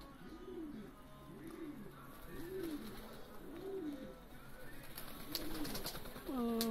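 Racing pigeons coo in a stock loft, a steady run of repeated rolling coos from several birds close by, with faint chirps and rustling in the background and no talking.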